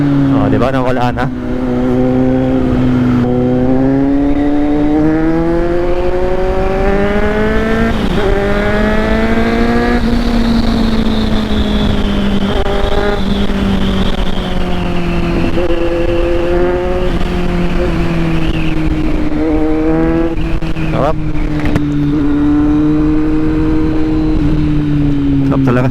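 A Kawasaki Z900 motorcycle with its backfire removed and an aftermarket muffler revs loudly and close up. The engine note rises and falls through sustained pulls, with crackles toward the end.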